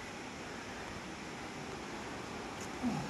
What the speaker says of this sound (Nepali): जलबिरे झरनाको छेउमा पुगिरहेछौँ।